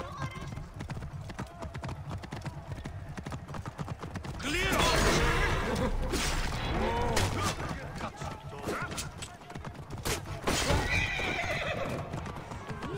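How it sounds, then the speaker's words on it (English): Hooves clop rapidly as a horse gallops in Assassin's Creed Origins, then a loud whinny cuts through as the horse is killed, with gunfire and a voice talking over it. "Killed my horse!"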